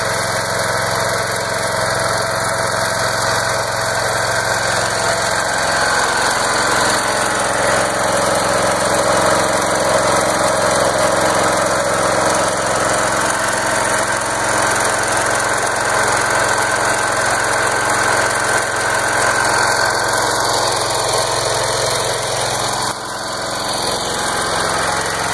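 A small engine running on wood gas made from a charcoal fire, fed through a cyclone-style filter and a simple air-fuel mixer on the carburetor, drones loudly and steadily with a buzzy, mower-like tone throughout.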